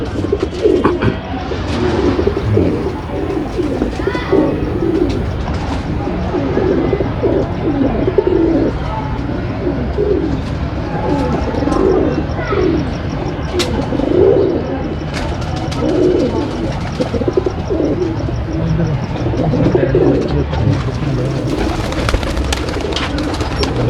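Pigeons coo in soft, repeated throaty bursts, several birds overlapping close by on a rooftop loft over a continuous busy background.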